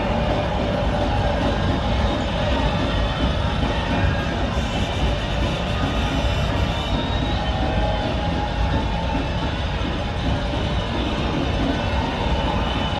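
Inside a Chicago L train, a steady loud rumble of wheels on rails fills the car, continuous and close with a faint rhythmic rattle and no clear voices.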